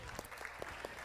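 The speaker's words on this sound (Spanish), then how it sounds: "pues da un aplauso" A congregation claps in a brief, faint burst, with soft scattered hand claps over a muffled background.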